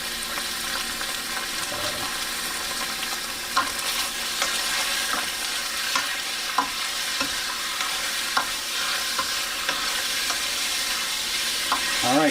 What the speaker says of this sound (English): we are going to saute this until a color turns like a light brown